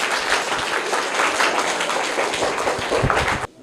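Enthusiastic audience applause for the top three winning children at a school competition, dense steady clapping from a crowd that cuts off abruptly near the end.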